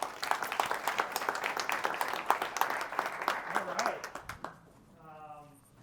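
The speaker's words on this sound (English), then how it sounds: "If you could give a round of applause to our CEO, Kurt Smith" Audience applause at a tech conference as the company's CEO is welcomed onstage, a scattered burst of clapping mixed with crowd noise that fades away toward the end.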